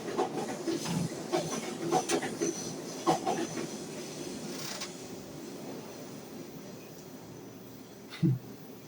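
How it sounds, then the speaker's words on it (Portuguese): A train passing by, a continuous rumble with hissing and a few rhythmic clicks from the cars, fairly close and steady throughout, swelling slightly near the end. "quando o trem passar"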